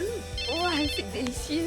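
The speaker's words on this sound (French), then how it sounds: "Oh, désolé, c'est mon téléphone, tiens ça." A mobile phone ringtone chimes in steady repeating tones through a short stretch, playing under a man's and woman's conversation in a home setting.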